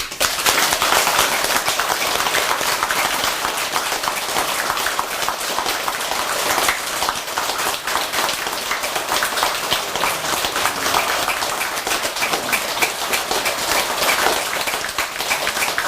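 A large audience at a Buddhist Dharma talk claps continuously and densely throughout, a sustained, even roar of many hands with no breaks and no talking.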